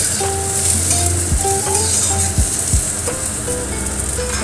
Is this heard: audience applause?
no